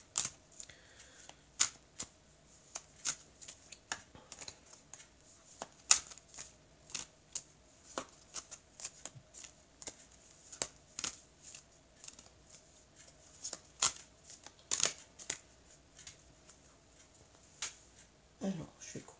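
A deck of tarot cards being handled and cut, heard as a long series of quiet, sharp card snaps and flicks at an irregular rhythm, close and crisp against a near-silent room.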